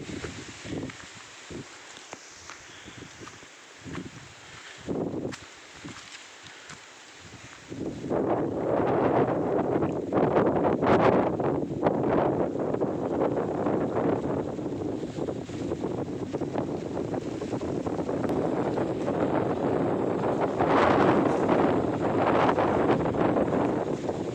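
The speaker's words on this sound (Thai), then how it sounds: "แต่ข้างบนลมแรงมากนะครับ" Strong wind gusts buffet a microphone on a mountain ridge, starting as a lighter rustle and then turning into a loud, steady roar for most of the stretch.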